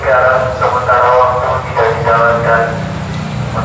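A train rolls along the railway near the Argo Bromo locomotive at an accident site in Indonesia, a loud, low rumbling drone with pulsing tonal screeches and rattles layered over it.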